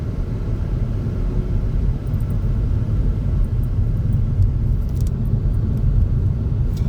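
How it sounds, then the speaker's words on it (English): A car turns on a street in Greenwood, a steady, fairly loud low rumble that holds for about seven seconds with faint high ticks near the end and no talking. "it's just a car turning"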